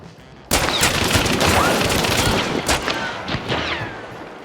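Revolvers from Hunt: Showdown, a pair of New Army pistols fired together, loosing a rapid, loud burst of shots that starts abruptly and continues as dense overlapping gunfire with sharp cracks and echoing tails.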